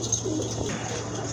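Big Danish pigeons coo in low, soft murmurs, heard near and steady for a moment under a faint background hum, with no one speaking.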